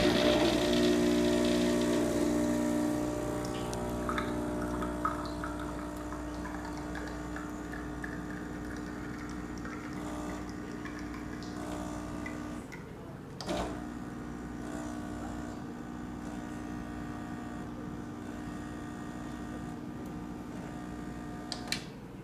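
A Starbucks Verismo 580 machine brews espresso with a steady, quiet mechanical hum and pump whir, a couple of brief clicks and gurgles partway through, heard alone.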